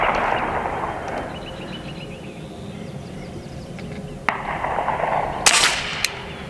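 An AEA SF Select Fire semi-auto .30 caliber PCP airgun fires outdoors on a 100-yard range, with a few sharp cracks standing out against a steady background rumble.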